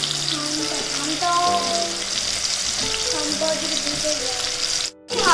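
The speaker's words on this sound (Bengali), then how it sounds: "পেঁয়াজ আর টমেটোটা আমি লাল করে ভেজে নেব।" Onion and tomato fry in a pan for kasundi chicken, a continuous close hissing sizzle with tonal hum and clatter. Speech is heard faintly beneath, and there is a brief drop-out near the end.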